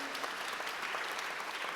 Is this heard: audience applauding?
yes